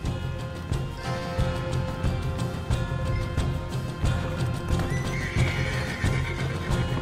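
Horses neigh and whinny while hooves clip-clop steadily in a Red Dead Redemption tobacco-field scene, loud and continuous over a busy backdrop of game noise and music.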